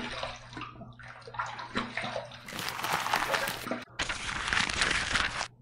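Running water rinsing a safety razor after a shave, a hissing tap stream that starts, pauses briefly and resumes, with light splashing from close by.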